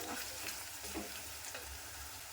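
Ginger garlic paste frying in a kadai for a Rayalaseema country chicken curry, a close, steady crackling sizzle with faint stirring scrapes, continuous and moderately quiet with no voices.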